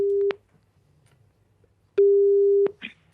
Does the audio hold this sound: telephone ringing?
yes